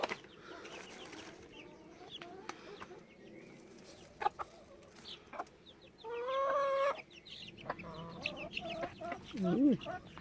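Month-old Silkie chicks clucking and peeping in soft, scattered bursts near and far, with a louder squawk midway and a person talking quietly in between.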